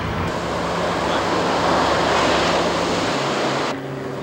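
Ocean surf at Malibu beach makes a dense, steady roar of breaking waves, broad and loud up close. It swells slightly in the middle, then eases near the end with a low rumble underneath.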